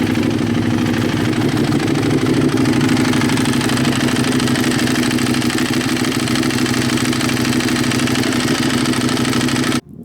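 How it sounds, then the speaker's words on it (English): A Ducati 1098 motorcycle with a newly replaced clutch and clutch basket idles steadily and loudly at close range, its even engine rumble running throughout before cutting off abruptly at the very end. "the new clutch sounds a good bit quieter than the old one"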